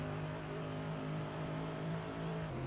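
Race car engine from a racing video game, a steady droning tone that holds throughout and dips slightly in pitch near the end, at a moderate, constant level with no talk.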